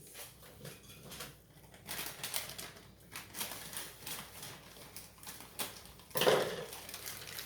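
Frozen carrots and peas from a 12-ounce bag tumble into a pot with a scattered, rattling patter, building to a louder clattering burst near the end; no talking.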